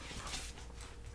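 A puppy dog whimpers briefly and softly indoors, a short plaintive whine set against steady background hiss with no talking.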